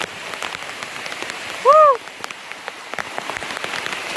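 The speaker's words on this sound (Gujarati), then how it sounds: "ખતરનાક વરસાદ છો ભાઈ." Heavy monsoon rain pours over the Girnar hills in Junagadh as a dense, steady hiss, broken midway by a short, rising-and-falling tonal call.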